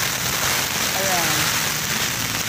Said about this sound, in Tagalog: So, ganyan po kalakas ang ulan.